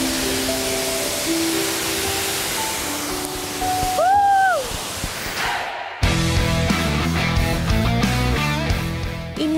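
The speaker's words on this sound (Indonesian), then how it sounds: "Gimana ya sensasinya dengan cipratan air terjun?" Rushing water from a waterfall on Wawonii Island in Southeast Sulawesi, at a canyoning spot, gives a steady broadband roar with a brief whistle-like tone partway through; music then takes over.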